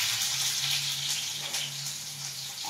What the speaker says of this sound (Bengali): এইভাবে আলু ভাজতে গেলে তেলটা ছিটকাই বেশি